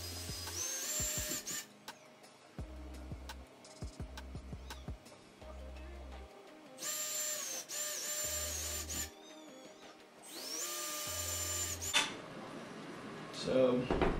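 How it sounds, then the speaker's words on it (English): A power drill bores holes into the plastic spray bar of a Fluval canister aquarium filter, giving several whining bursts of a few seconds each over steady background music. "And make a hole. It's not really complicated. I mean, you obviously have to be careful. The drill bit is sharp and it will hurt you."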